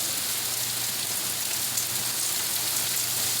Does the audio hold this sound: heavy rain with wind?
yes